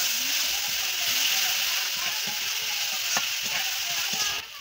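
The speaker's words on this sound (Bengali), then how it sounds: "হলুদ গুঁড়ো, হলুদ না দিয়ে ভালো করে নাড়িয়ে চাড়িয়ে নিচ্ছে" A spatula scrapes and stirs spices with turmeric powder in a frying pan over a steady hiss of sizzling oil, with repeated scraping strokes close by and no talking.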